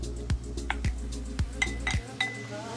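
A spoon stirring chicken momo filling with vinegar in a bowl, giving several sharp clinks and scrapes at an uneven pace, close up and fairly loud with no talking.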